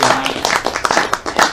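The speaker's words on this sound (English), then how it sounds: "please applaud Mike and Lance" Audience at a talk on Bitcoin and central banking applauding the speakers, an uneven burst of many hands clapping at close range with some mixed voices underneath.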